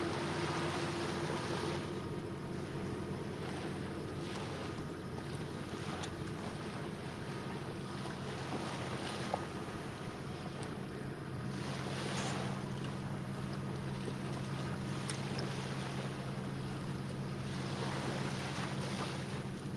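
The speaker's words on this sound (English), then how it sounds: "I hope that wind dies out just a little bit." Steady wind blows across a boat out on the Mississippi River during a catfishing trip, with a constant low engine-like hum and rushing noise that holds the whole time, with no one speaking.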